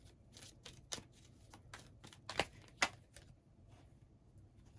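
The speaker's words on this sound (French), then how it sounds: "il y a trop de cartes qui sont tombées d'un coup" Tarot cards spill from a deck all at once in a quick run of soft papery slaps and flicks, with a few sharper snaps standing out, close but quiet with no talking.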